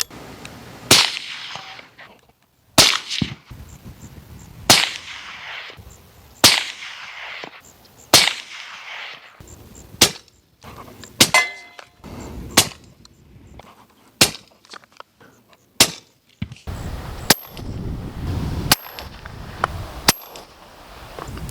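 A string of sharp, loud gunshot cracks from a suppressed 300 Blackout bolt-action rifle, about a dozen, spaced every couple of seconds with quiet gaps between them and no talking.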